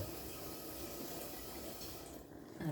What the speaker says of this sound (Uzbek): Ovqatimiz ana bir chiroyli bo'lib nima qilyapti, qaynayapti-da